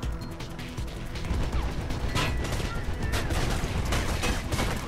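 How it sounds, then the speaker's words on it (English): Gunfire in the video game Mirror's Edge, dense crackling shots and impacts layered over a loud, busy game soundtrack, continuous for the whole stretch. "they're fucking shooting at me"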